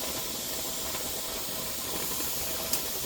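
Steady, even hiss of steam venting continuously from a pressure canner before the weight goes on, with a faint tick near the end and no voices.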